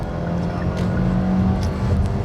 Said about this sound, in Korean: 부드럽게 시프트업을 해 나가면서 속도를 끌어올리고 있습니다.